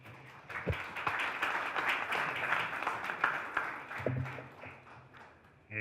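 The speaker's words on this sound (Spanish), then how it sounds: "Demos un fuerte aplauso y la bienvenida" Audience applause welcoming a speaker at a railway safety and regulation workshop: steady, dense clapping from a crowd that holds for several seconds, then thins toward the end.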